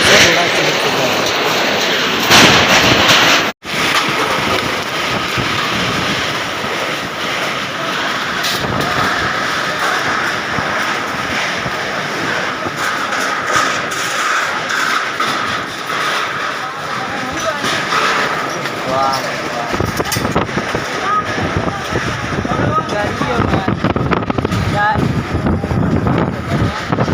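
Violent windstorm roaring through a street and sweeping loose belongings along, a loud continuous gusting rush with buffeting on the microphone, voices faintly under it.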